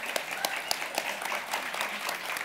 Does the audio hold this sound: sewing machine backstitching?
no